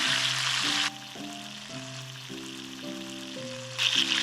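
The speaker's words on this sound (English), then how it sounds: "Now that both chunks of pork are brown, I'm going to add the first chunk back into the pan" A browned chunk of pork for a Goan pork roast sizzles loudly as it goes back into a hot pan, fading to a quieter fry before a second burst of sizzling. Soft background music plays throughout.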